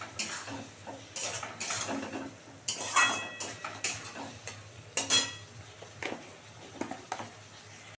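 Metal spatula scraping and stirring spices in a pan while they are sautéed for a fish curry, with a low frying sizzle. The scrapes come in irregular bursts and clatters, close and fairly loud, with no talk.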